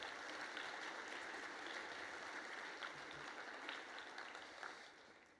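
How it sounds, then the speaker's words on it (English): An awards-ceremony audience applauding for a lifetime achievement honoree, a steady dense wash of clapping from many hands that holds throughout and tapers slightly at the end, with no speech. "another round of applause would do no harm"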